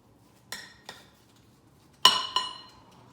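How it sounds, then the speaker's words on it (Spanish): A frying pan set down on a stove, heard as a couple of light metallic knocks followed a second later by two sharper, ringing clanks, close and distinct against quiet. "vamos a poner nuestro sartén."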